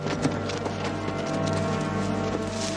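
Horse hooves clip-clopping in the western film Unforgiven (1992), a steady run of hoofbeats over a dense, continuous film soundtrack of music and background sound, with no talk.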